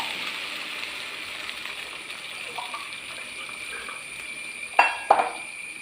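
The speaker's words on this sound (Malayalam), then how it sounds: "അതിനകത്തേക്ക് ഞാൻ ഒരു ഒന്നര കപ്പ് വെള്ളം ഒഴിച്ചു കൊടുക്കുന്നുണ്ട്" One and a half cups of water are poured into a pan of sugar, a steady hissing stream running throughout and ending with two bright clinks of the cup against the pan.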